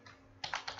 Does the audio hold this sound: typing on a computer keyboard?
yes